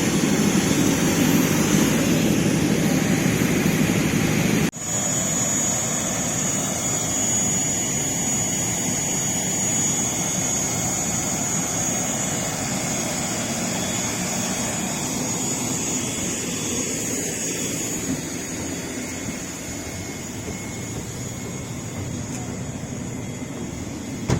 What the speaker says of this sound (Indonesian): Boeing 777-300ER carry on 393 Aceh pilgrims.